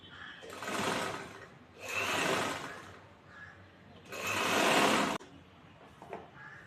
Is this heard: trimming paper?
no